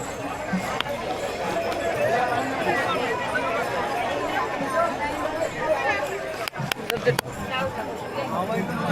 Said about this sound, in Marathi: आम्ही आता पोचलो आता विश्रांतवाडीला आणि गर्दी बघा किती आहे